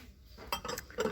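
Ceramic bowls in mustard, brown and beige tones clink together as they are handled in a shop, giving a few sharp, close knocks and chinks in quick succession.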